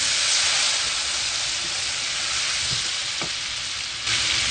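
Boiled potatoes frying in a pan with turmeric and salt for spicy garlic potatoes, giving an even, loud sizzling hiss with a couple of soft stirring knocks.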